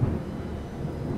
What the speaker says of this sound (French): Suis les coups de tonnerre.